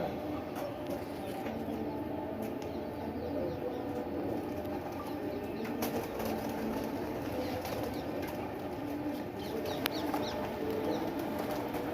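Racing pigeons, five males and two females, take off from a rooftop in Amritsar during a flying contest; a steady rush of wing flapping and fluttering runs throughout over a dense outdoor background, with no voices.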